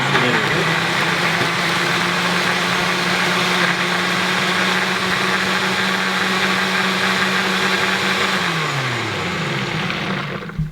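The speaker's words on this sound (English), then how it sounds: "it's a hand blender that we use for mayo and these sort of dishes." A hand blender whirs steadily while making mayonnaise, its motor holding a constant loud drone for about eight seconds before winding down and stopping near the end.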